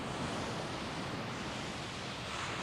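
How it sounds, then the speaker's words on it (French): Ocean surf breaking on a beach in Kauai, Hawaii, a steady, loud wash of broadband roar with no gaps and no voices. "Et les vagues sont assez importantes."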